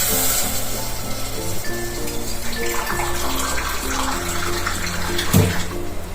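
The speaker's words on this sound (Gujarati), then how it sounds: "પછી આપણે નાખી દઈશું પાણી." Water pouring into a pressure cooker for rasam, a continuous close splashing gush with a slight tonal ring, steady for several seconds.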